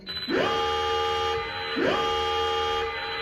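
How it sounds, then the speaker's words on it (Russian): A building fire alarm sounds twice, each a rising swoop into a sustained buzzing tone, loud and steady with no voices. "Внимание, пожарная тревога."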